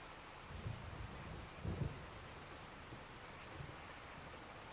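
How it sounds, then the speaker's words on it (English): Thunder and rain during a storm in Farming Simulator 25: a steady broadband rain hiss fills the clip, with a couple of deep, rolling thunder rumbles rising out of it. No one speaks. "Thunder and lightning sound effects are much better"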